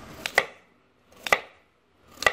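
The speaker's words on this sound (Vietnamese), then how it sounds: "lấy củ cải trắng cắt đoạn dài cỡ 4cm" A knife chops through a firm white radish on a cutting board three times, each a sharp double knock, spaced about a second apart.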